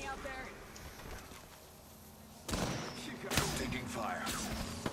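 Gunfire crackles in Apex Legends, first faint and distant beneath background noise, then loud sharp bursts of shots break in over the second half while players talk.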